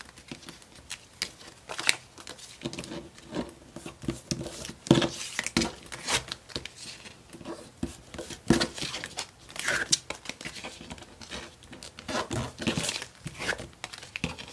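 Scissors cut through paper for homemade die pockets in a close, irregular run of crisp snips and rustles that continues without pause.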